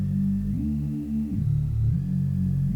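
Synth bass with distortion, chorus and a low-pass filter plays a short gliding riff of deep, buzzy sustained notes that step up and down in pitch, muffled on top and heard alone.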